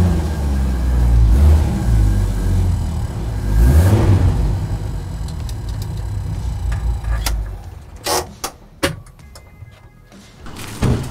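A short-wheelbase Mercedes G-Class 280 fitted with a Jeep Cherokee engine and carburettor revs off-road, its engine swelling in loud surges, then thumps and clunks of the body and doors follow near the end.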